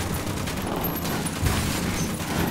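Dense gunfire from a firefight in the PC game Ghost Recon Wildlands, a steady loud wash of overlapping shots and bursts with no clear gaps, filling the whole stretch without talk over it.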